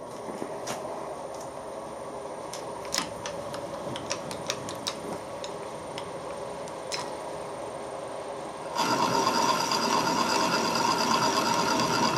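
Plastic being cut on a machine for pattern making, heard as a steady mechanical whir with scattered ratcheting ticks that suddenly turns louder and denser partway through as the cut engages.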